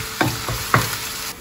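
Chopped onion and garlic cooking in a pan as part of a Livorno-style red mullet recipe, a steady sizzle broken by a few distinct scrapes of a utensil stirring, close up with no talking.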